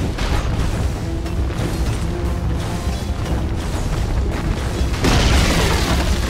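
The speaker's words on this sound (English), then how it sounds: "Radiant's bottom tower is under attack." Booming explosions from a tower under attack in the Dota 2 video game, with dense rumbling impacts that run continuously and grow heavier and brighter toward the end.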